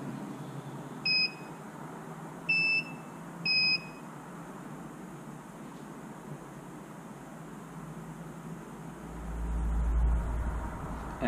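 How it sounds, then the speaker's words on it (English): Three short electronic beeps in quick succession from a Lawnba E1800/E1600 robot lawn mower pairing with its charge station, clear and close over a low steady background hum. "if we turn that off and back on, you'll get the three beeps to show the connection."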